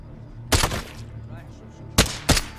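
Rifle shots in Modern Warfare, with three loud sharp cracks, one alone and then a quick pair, over a low game hum.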